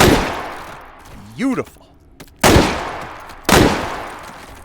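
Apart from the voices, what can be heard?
AR rifle shots with MRO sight in H3VR video game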